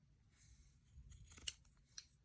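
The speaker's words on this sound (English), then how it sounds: "And I'm going to cut that one right here." Scissors snip through a small piece of lace at close range: a few quiet crisp cuts, with two sharper closing snips near the end, and no talking.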